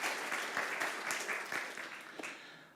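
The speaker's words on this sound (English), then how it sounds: "we're heaping applause upon Jeremy, who's back with us again to share his musical gifts" A church congregation claps for the returning musician Jeremy at a Sunday service, a fairly soft, even spatter of hands that gradually fades out.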